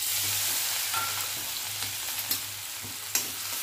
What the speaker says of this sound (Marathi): थोडंसं लसूण परतून घेऊया आणि छान भाजून घेऊया